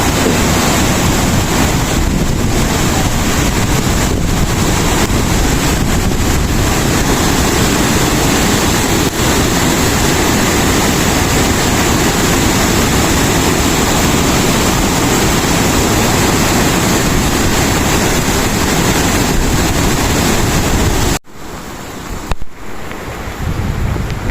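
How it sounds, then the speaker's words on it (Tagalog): Typhoon floodwater rushes in a continuous loud, broadband roar with wind buffeting the microphone, steady for most of the stretch before cutting off abruptly near the end. "ganito po kalakas ang tubig dito"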